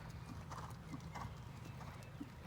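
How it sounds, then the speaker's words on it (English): Faint, rhythmic thudding of horse hooves in a left-lead counter canter during flatwork schooling, muffled under a low rumbling background. "A left lead counter canter."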